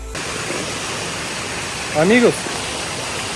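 A mountain waterfall in Santa Catarina rushes as a constant broadband roar, close and steady, with someone briefly speaking over it.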